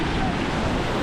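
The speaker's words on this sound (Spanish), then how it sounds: "Mira, mira esa ola que rompe por ahí." Ocean waves break and wash on a rainy beach, a steady loud roar of surf and wind noise with no distinct pauses.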